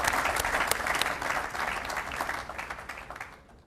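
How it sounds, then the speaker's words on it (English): Audience at a university groundbreaking ceremony for a wellness and events center clapping in a round of applause, crisp dense claps at first that thin out and fade toward the end. "Give yourselves a great round of applause."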